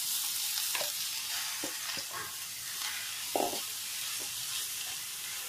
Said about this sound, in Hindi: इसमें ये घी हमारा गरम हो गया है। अब ये जो हमने कद्दूकस किया हुआ गाजर रखा है इसमें